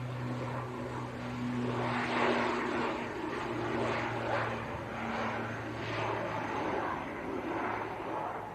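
A passenger airliner climbing away after takeoff from Leeds Bradford Airport gives a steady, distant engine roar that swells and fades gently, heard alone without talk.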